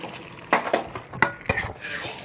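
Chicken stew with coriander leaves being stirred in a pot, a spoon scraping and knocking against the metal in several quick strokes, close and fairly quiet with no talk.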